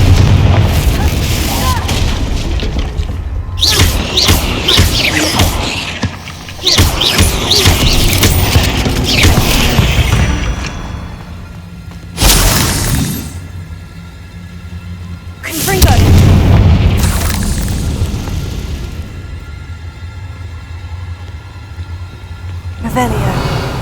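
Confringo blasting-spell explosions in the video game Hogwarts Legacy hit as loud, deep booms with rumbling tails, several in succession, separated by quieter stretches of in-game sound.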